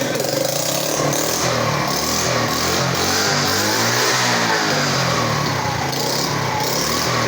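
A Kuba motorcycle fitted with a Boss 50 exhaust revs steadily and loudly close by, its engine note rising and falling under a dense rasp for the whole stretch, with no speech over it.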